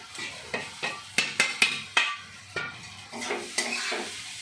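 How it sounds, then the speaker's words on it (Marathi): Poha tipped into a pan with onions and stirred, a string of sharp spatula scrapes and clinks against the pan over a faint sizzle, close and unaccompanied by voices. "तर आता मी याच्यामध्ये पोहे घालून घेते"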